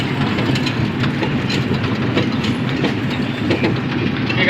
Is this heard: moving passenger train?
yes